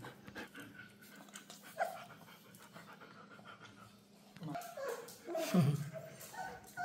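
A mother dog and her five puppies pant and whimper at home, a steady close panting broken by soft whines and yips that grow louder near the end.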